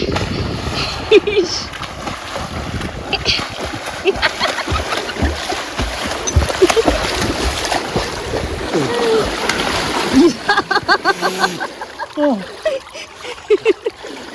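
Someone who cannot swim splashes and thrashes in a swimming pool, with choppy water slaps and trickles up close and voices talking and laughing throughout.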